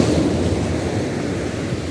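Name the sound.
rough ocean surf waves at beach in Maunabo, Puerto Rico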